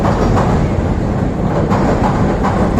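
A Chicago L elevated train rumbles past loudly and close, a continuous dense roar of wheels and rattling cars on the elevated track throughout, with no voices.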